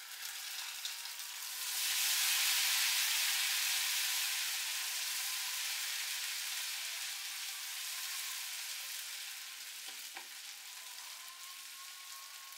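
Steady, loud sizzling of ginger and garlic frying in hot oil with onions for mutton Kabuli pulao, swelling after a couple of seconds and then hissing on continuously, with a few faint clinks.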